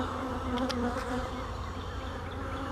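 A steady, close drone of honeybees buzzing around beehive nucs, continuous and even, with no voices.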